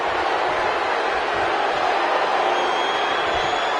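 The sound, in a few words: crowd cheering in WWE 2K19 video game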